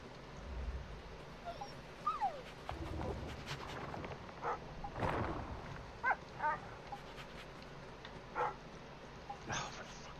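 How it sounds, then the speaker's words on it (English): A dog whimpers and yips in the survival shooter game Once Human, with short high whines scattered over a busy game soundscape of thumps and clatter, while a voice talks over it at times. "Get out of the way, you stupid dog"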